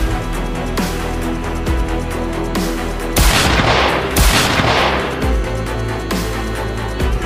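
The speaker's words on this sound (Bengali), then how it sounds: "সে গ্রেগকে গুলি করে" Gunfire in a movie shootout scene: a series of sharp, loud shots at irregular intervals, with a dense burst of rapid fire and crashing noise in the middle, no talking.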